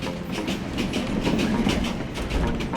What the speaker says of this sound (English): the train picks up speed.